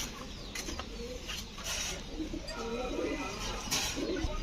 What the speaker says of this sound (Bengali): এগুলো হচ্ছে সব বেলজিয়াম ব্লাডের কবুতর।